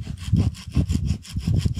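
A saw cuts wood outdoors in a wilderness survival setting, with rapid, rhythmic back-and-forth rasping strokes, about five or six close, loud strokes in quick succession and no voices.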